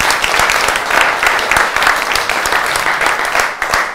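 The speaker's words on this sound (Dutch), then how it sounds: "Deze man verdient ook een applaus." An audience at a book presentation applauds the evening's technician, a full, even round of clapping from many hands that holds steady throughout, loud and close.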